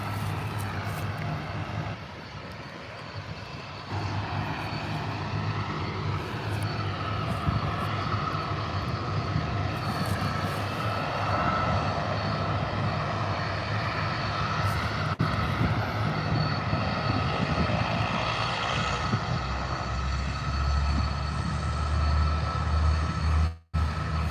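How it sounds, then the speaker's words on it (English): Bombardier Q300 turboprop engines spool up at an airport, a loud steady drone with shifting whine tones that holds for over twenty seconds before cutting off abruptly. "Listen to this spool here with those turboprops."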